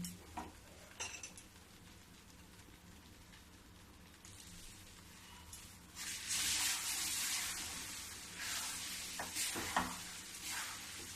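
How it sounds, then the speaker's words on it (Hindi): Besan laddu mixture roasting in a pan at home, with a spoon scraping and stirring against the metal amid a soft steady sizzle that grows louder partway through. "अब इसको इसी प्रकार थोड़ी देर और भूंजूंगी"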